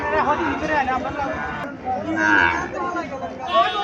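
At a busy cattle market in Chandimura, Comilla, where lean dairy cows are for sale, a cow's low moo-like call sounds close, partly under nearby chatter and a general crowd hubbub.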